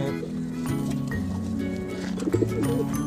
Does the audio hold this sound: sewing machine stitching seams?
no